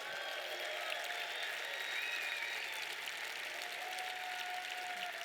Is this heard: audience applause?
yes